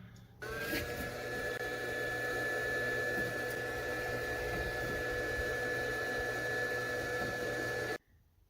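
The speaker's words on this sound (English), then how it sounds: "sometimes I take the blow dryer and stick it up the stovepipe and blow out whatever's left" A blow dryer stuck up a stovepipe kicks on and roars steadily for several seconds with a constant whining tone, then cuts off abruptly; close and loud, no voices.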